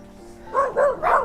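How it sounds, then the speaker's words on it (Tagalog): Dog barking three times in quick succession, fairly close and clear over quiet background. "Ay ko, may aso."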